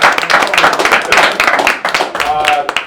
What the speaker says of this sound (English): So let me just clap that one more time for that.